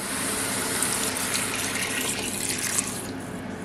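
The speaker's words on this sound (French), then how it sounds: "Et on va rajouter l'eau." Water, one litre, poured into a pot for a creamy red kuri squash soup; a steady, loud rushing splash runs throughout, close up with no voices.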